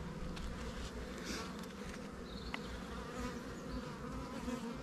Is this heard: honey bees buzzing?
yes